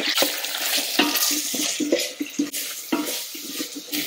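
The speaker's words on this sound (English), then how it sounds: "add ginger garlic paste and fry this well" Ginger garlic paste frying in an Instant Pot for a chicken curry and bagara rice: close, busy sizzling with repeated scraping stirs and knocks of a utensil against the metal insert, continuous and fairly loud, with no speech.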